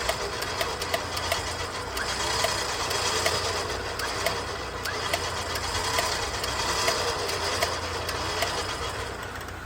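A winch on a Jeep Gladiator build whirs steadily as it spools rope under tension onto its drum, a continuous mechanical hum with a faint rhythmic ticking running the whole time, no voices.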